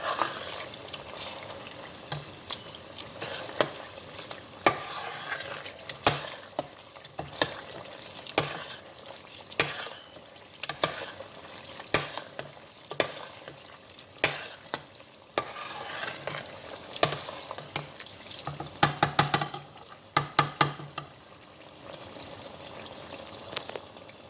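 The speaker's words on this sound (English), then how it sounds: "That's the essence of frying it for a while." A thick Nigerian tomato stew with chicken sizzles and spatters as it fries in a pot, with frequent scraping stirs and clinks, no talking.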